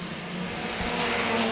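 Mini stock race cars, among them a Chevy Cavalier, a Dodge Neon and a Saturn station wagon, roar past together at Auburndale, a steady dense engine drone with no pause.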